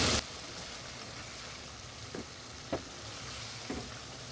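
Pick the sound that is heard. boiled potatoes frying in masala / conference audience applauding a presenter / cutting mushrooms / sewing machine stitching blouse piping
boiled potatoes frying in masala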